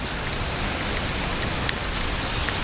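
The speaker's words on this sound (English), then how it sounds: "Oh, and it's raining hard." Heavy rain pours steadily in Ketchikan, Alaska, a dense, continuous hiss close by with scattered sharper drops and no voices.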